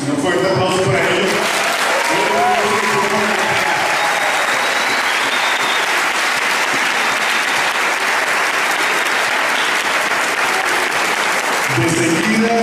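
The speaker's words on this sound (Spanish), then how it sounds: "Un fuerte aplauso para ellos." A large audience applauds loudly and steadily for the parish choir of San Andrés at a centennial music festival at Holy Redeemer church in Kissimmee, Florida, with a few voices over the start and end.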